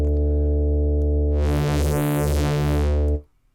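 A synthesized tone from an oscillator in the Massive X software synth sounds as a loud, steady, sustained pitch, rich in upper harmonics, with slight wavering in the middle, cutting off abruptly after about three seconds.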